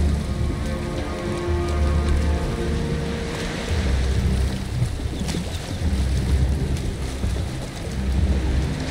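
Sailing a boat on the sea in the game Valheim: steady rain patter and sloshing water with low rolling wave and hull rumble, continuous and fairly loud, no talking.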